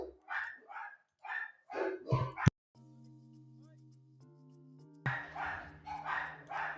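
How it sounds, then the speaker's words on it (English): A dog barks at the postman, several short barks in a burst around the middle, surrounded by a person talking before and after, with a steady tonal hum during the pause. "My dog's going nuts at the postman."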